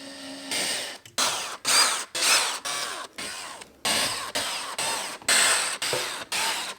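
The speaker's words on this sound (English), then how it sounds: "I'm going to drill it right in the center." A power drill runs in repeated bursts while drilling into a sit-stand desk frame, whirring loudly for about half a second each time with short pauses between, close by.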